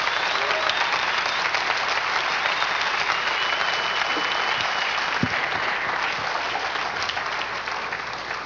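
A church congregation gives a sustained burst of dense, loud applause at a Spanish-language Sunday service on spiritual warfare, the clapping holding steady throughout and fading slightly near the end.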